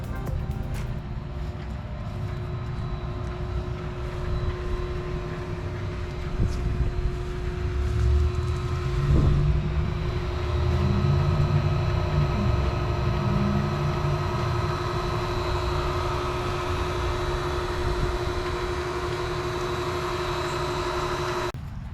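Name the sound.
old inground pool pump running during sound test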